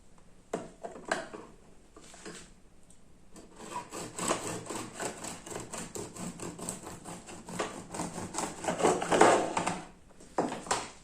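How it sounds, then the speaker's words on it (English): A loaf of no-knead bread being sliced with a slicing tool, a steady rhythmic rasping saw-like scrape through the crust, close and fairly loud, with a few short pauses between strokes. "this tool helps me to cut perfect slices"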